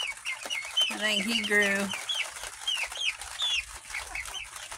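A rooster clucks in a backyard chicken farm, a short run of throaty clucks near the microphone, with other birds chirping around and someone speaking softly.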